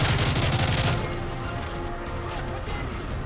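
Gunfire crackles in the Modern Warfare 3 campaign, with a dense burst of rapid shots up front that gives way to a lower, busy rumble of game action.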